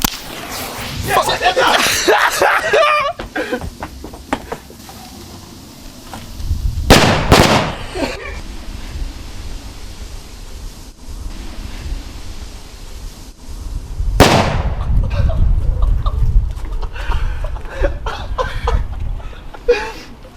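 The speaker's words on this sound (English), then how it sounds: "Nice little gas-powered grenade." Airsoft gas-powered grenades go off outdoors as two sharp, loud bangs several seconds apart, with rustling and handling noise and some background voices between them.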